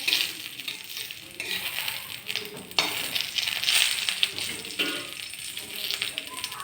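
Whole cumin seeds and bay leaf tossed into hot oil for a potato and pea curry, giving a continuous crackling sizzle with bursts of popping, close up and fairly loud throughout.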